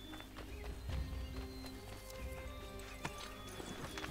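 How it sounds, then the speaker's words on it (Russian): A horse gallops in Assassin's Creed 3, its hooves clip-clopping in a quick rhythm over game music and ambience, moderately close with no voices. "давайте-ка вот на лошадку залезем и поскачем по бырику"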